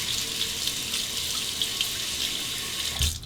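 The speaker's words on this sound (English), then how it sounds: "let's rinse that" Tap water runs steadily into a sink to rinse stubble off a Rockwell R1 safety razor, a continuous close splashing hiss with a slight surge near the end.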